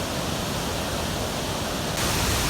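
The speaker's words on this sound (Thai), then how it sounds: "แล้วก็มาถึงน้ำตกตาดเดียวนะครับ" Tad Yeuang waterfall in Pak Song, Laos, roars as a dense, steady rush of falling water that swells a little louder partway through. No talk is heard.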